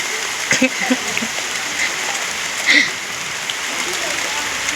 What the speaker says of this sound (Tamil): நல்ல சத்தம் உங்களுக்கு கேட்கும்னு நினைக்கிறேன் நல்லா பெய்யுது மழை